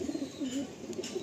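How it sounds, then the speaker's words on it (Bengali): Soft, low cooing from a young Madrasi pigeon, a steady warbling murmur close by with no talk over it. "এটা চোখটা খুব ভালো, মানে একটা দারুণ চোখের পায়রা এটা"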